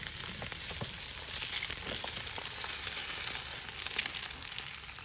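Eggs frying in a hot non-stick Trangia 25 camping pan, a steady soft sizzle and crackle with faint pops, close and alone throughout.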